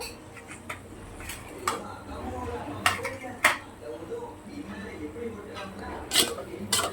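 Eggplant pieces being sautéed in a pan, with scattered clinks and scrapes of a utensil against the pan over a low frying background and faint voices, several sharp knocks standing out.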